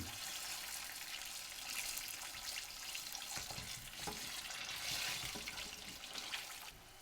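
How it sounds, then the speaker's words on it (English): Zeppole dough frying in hot oil gives a steady, close hiss of bubbling sizzle with occasional light clinks and splashes, and no voices. "So now you've seen us fry them"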